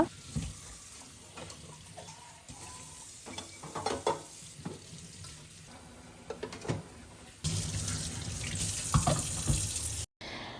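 Tap water runs into a kitchen sink as dishes are washed, with scattered clinks and scrubbing, then a louder, steady gush of running water near the end, with no talking.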